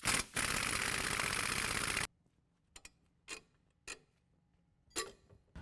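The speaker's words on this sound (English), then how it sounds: "now we're going to use a 21mm socket and wrench and remove the lower shock mount bolt" A 21mm socket and wrench loosening the lower shock mount bolt on a 2017 Silverado 2500 HD, starting with a loud sustained burst of ratcheting, then a few short separate clicks and turns in a quiet garage.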